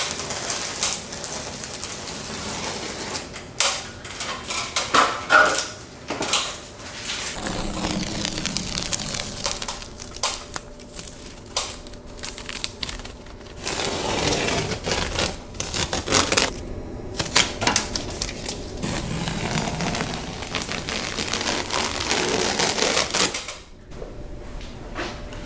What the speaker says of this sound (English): So I'm gonna peel this tape and shoot,